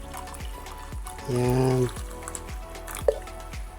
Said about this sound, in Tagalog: Saka natin lagyan ng tubig, syempre.